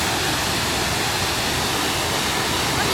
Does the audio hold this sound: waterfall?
yes